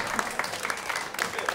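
A short burst of scattered clapping from a country music festival audience, fairly faint and brief, with a few louder claps standing out.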